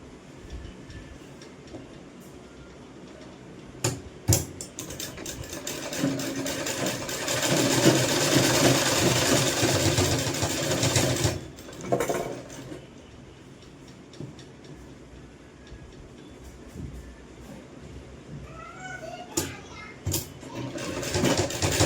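A sewing machine stitches the shoulder seams of a sleeveless kurti in a long, rapid clattering run, with pauses between bursts and quieter stretches where a person talks.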